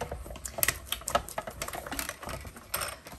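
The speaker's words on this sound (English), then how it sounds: "And then we're going to die cut this." A die cutting machine pressing a die through paper, giving a close, steady mechanical clicking and grinding, like gears and a ratchet turning as the plates feed through, with no voices.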